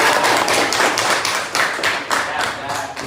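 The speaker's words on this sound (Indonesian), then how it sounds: "Tepuk tangan untuk kelompok 2." A classroom group of students claps together, a dense, steady patter of many hands close by that carries on for about three seconds with a loud, even level.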